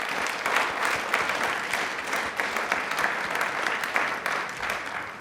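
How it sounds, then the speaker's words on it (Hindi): Studio audience on a TV quiz show bursts into enthusiastic clapping, a full, even round of applause lasting several seconds with no talking over it. "तालियां एक बार जोरदार बनती हैं।"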